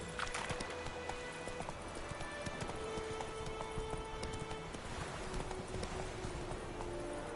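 Galloping horse hooves from The Witcher 3 video game, a steady rapid clip-clop running continuously and fairly loud, with an occasional whinny and faint background game sounds.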